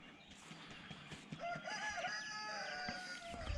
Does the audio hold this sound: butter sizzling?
no